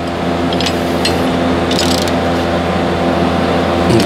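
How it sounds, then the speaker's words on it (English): Rapid clicking of a regular ratchet snugging a bolt on a Ford Escape rear brake caliper, close and loud, with several quick bursts of pawl clicks over a steady mechanical hum. "we're gonna snug it with a ratchet, regular ratchet"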